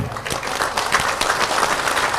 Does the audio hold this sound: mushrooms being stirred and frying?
no